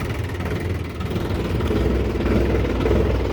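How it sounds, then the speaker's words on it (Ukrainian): A Solis RX50 tractor engine idles steadily with a low, even rumble, close by and unchanging, with no talk over it. "Тихенько працює мотор."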